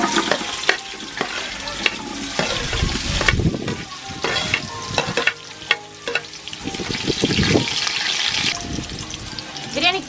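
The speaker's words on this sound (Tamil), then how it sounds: "சீக்கிரம் வெங்காயம் வதங்கிடும்." Onions frying and being stirred in a pan for chicken biryani, cooked outdoors on a terrace: a continuous close sizzle with frequent clattering spatula scrapes and stirring bursts.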